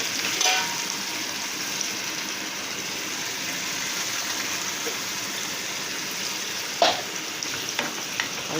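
Ground tomato, onion and ginger-garlic paste fry in hot oil, giving a steady broadband sizzle throughout with a couple of brief stirring clatters near the end, close and alone with no voices.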